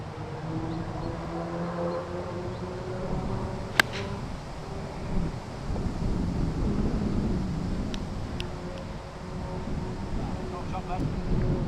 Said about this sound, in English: it was blowing a hoolie out there